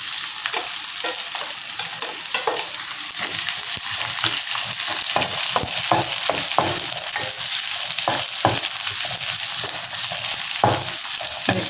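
Garlic and green chillies frying in a pan with onions for agathi keerai sothi, a loud continuous sizzle with occasional stirring scrapes and crackles throughout.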